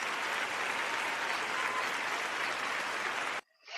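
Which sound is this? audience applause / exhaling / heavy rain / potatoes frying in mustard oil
audience applause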